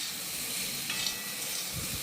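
Cauliflower frying in oil in a pan: a steady close sizzle and hiss that continues throughout, with a few soft stirring scrapes, and no voices.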